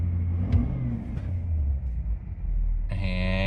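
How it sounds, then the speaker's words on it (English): The 6.7 diesel engine in a 2017 Ford F250 Power Stroke truck rumbles at idle, a deep, close drone that jumps to a higher, harmonic-rich rev near the end. "if you put it in drive, and or you hit the throttle"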